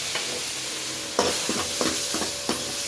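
Oil sizzles steadily in a pan as tomatoes fry, with a few soft stirring scrapes and bursts of crackle, close by and with no talking.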